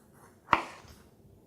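A knife slices through a pineapple quarter to remove the core, giving one crisp chopping impact followed by a short fading rasp, close and fairly quiet with no talk.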